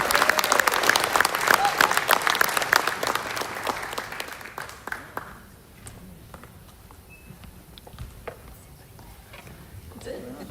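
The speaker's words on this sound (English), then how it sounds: "Let's give one big round of applause for her." An audience applauds at a spring undergraduate graduation ceremony, a loud, dense burst of clapping that thins and fades after about five seconds into scattered claps, shuffling and low murmurs from the crowd.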